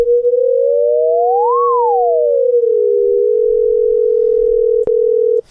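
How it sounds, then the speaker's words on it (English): Synthesized telephone ringback tone from 440 and 480 Hz sines, one pitch sweeping up and back down before the two settle into a steady loud hum, ending with a brief click. "the ringback tone is simple to create, 440 and 480."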